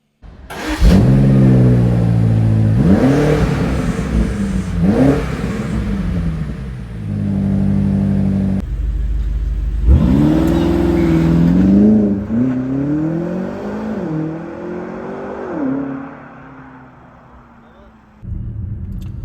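A BMW X5 M Competition's twin-turbo engine revs up through several gears with rising surges and shift breaks, then eases off into a fading whine; a voice speaks briefly underneath.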